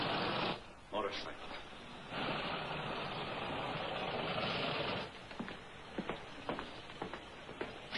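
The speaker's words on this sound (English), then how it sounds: "Motorcycle." A motorcycle engine idles with a steady, fairly loud buzzing drone for several seconds, then drops away into scattered clicks and knocks.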